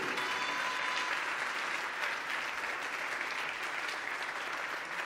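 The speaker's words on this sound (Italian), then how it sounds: "Fatelo forte un applauso al Re Gesù." An Italian church congregation gives a loud, sustained round of applause for King Jesus, a dense, continuous wash of clapping from many people throughout.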